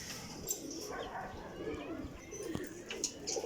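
Soft pigeon coos repeat in the background at low volume, with faint voices and other bird chatter mixed in.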